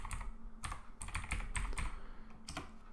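Keystrokes on a computer keyboard as a web search is typed, a quick irregular run of close, crisp clicks in small bursts, fairly quiet over a faint steady background hum.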